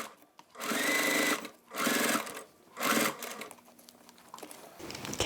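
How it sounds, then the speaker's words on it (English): A sewing machine stitches through the thick strap connectors of a crossbody bag in three loud, close bursts of steady whirring separated by short pauses, followed by quieter handling sounds. "I'm going to sew over there"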